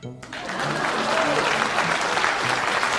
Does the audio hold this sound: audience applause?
yes